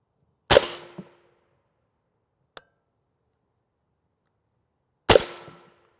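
M855 rifle rounds striking a Level III UHMWPE armor plate outdoors: two sharp, loud impact cracks several seconds apart with a faint tick between, no talk.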